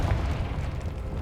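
Confringo blasting-spell explosion in the Hogwarts Legacy video game, heard as a loud, low, rumbling boom that carries steadily through the short moment.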